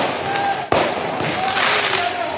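Fireworks fired by rioters at riot police crack out amid a noisy crowd, one sharp bang standing out over a constant roar of voices and street noise.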